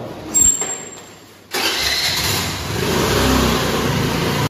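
A motorbike engine kicks into life for a ride through Connaught Place, a short burst of cranking and then a steady, close rumble as it idles and revs.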